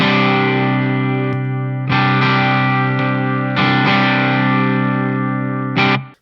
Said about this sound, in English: That's a good basic overdrive sound.